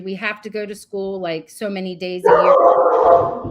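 A dog barks at home during a video call, a short burst of loud barks and yips following a woman's speech and overlapping its end.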